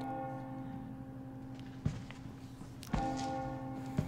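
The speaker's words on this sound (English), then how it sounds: "apparently the bell gets their attention" In the Resident Evil 4 Chainsaw Demo, a church bell tolls three times at roughly one-second intervals, each strike sharp and ringing over a steady low drone, with no talking.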